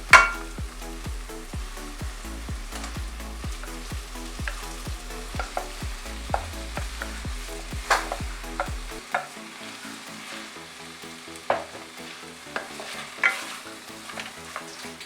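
Boiled potatoes are stirred into spiced oil in a pan, a spoon scraping and knocking in quick regular strokes over a soft, steady sizzle of frying; the stirring eases off partway through while the sizzling continues.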